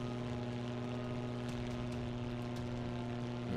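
A propeller fighter's engine throttles up in the video game 303 Squadron: Battle of Britain, a steady droning hum with strong low harmonics that holds continuous and close throughout, with no speech.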